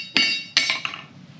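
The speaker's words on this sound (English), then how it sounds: "It's a rounding hammer." Two sharp metallic strikes of a rounding hammer on metal ring out close by while forging, a moment apart, followed by a lighter tap and a fading ring.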